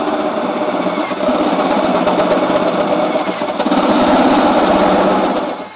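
Continuous high-pitched whine of a step drill bit cutting through the sheet-metal wing of a Land Rover Discovery, steady and loud throughout before trailing off at the end.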